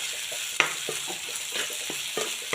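Chickpea masala for butter masala chole roasts in a pan, a soft continuous sizzle broken by repeated scraping knocks of a spoon stirring, heard close with no talk.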